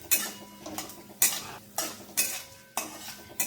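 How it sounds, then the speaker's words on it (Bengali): Spices with asafoetida frying in a pan over a low flame, heard as a quiet sizzle broken by four sharp scrapes and clinks of a spoon stirring against the metal, each followed by a brief fading rustle. "এবার মশলাটাকে লো ফ্লেমে ভেজে নিতে হবে।"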